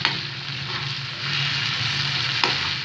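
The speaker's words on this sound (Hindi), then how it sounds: "अब दानियल, इसको थोड़ा भूनेंगे हम" Tomatoes fry in a pan over raised heat, giving a steady, close, dense sizzle with a couple of faint stirring clicks and no talking.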